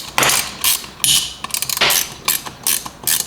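Hand ratchet tightening 10 mm brake bolts on a Crazy Cart XL go-kart, giving several quick bursts of close, crisp clicking, each short run of clicks separated by brief pauses.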